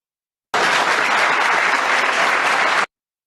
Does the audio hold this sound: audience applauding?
yes